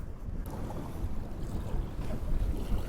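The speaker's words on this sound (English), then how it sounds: "The wind has really picked up" Wind rushes over open water during a walleye fishing trip, a steady low roar with gusty buffeting against the microphone and faint lapping beneath it, with no voices.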